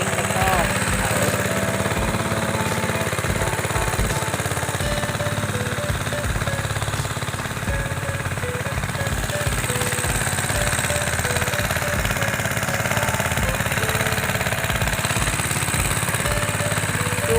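A small engine drives a sprayer used on durian flowers in an orchard, running steadily with a rattling, chugging drone throughout while someone talks over it.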